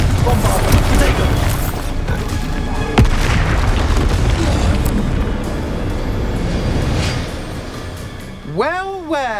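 Spell blasts and explosive booms from the video game Hogwarts Legacy, a dense, loud stream of magical combat impacts with a sharp crack near the middle and a rising whooshing spell effect at the end.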